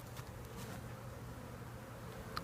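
Honey bees at a hive frame on a farm give off a faint, steady low buzz, close and continuous, with a couple of brief louder passes and no talking.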